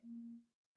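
A single faint, steady electronic phone alert tone lasting about half a second before fading into silence.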